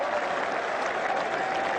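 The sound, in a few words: cricket crowd erupting in applause after catch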